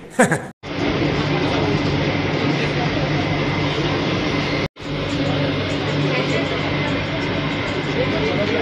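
A new metro train running on its line makes a steady, loud rumbling roar that continues throughout, broken by two very brief dropouts.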